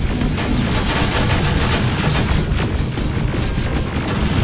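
Dense, continuous gunfire from the Terminator: Resistance video game, loud and close, with rapid overlapping shots and booms filling the whole stretch without pause and no voices.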